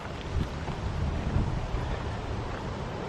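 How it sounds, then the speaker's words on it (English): Wind buffets the microphone at a lakeside reservoir camping area in Australia, a steady broadband rush with gusty low rumbles and no talking. "Hope the wind is okay."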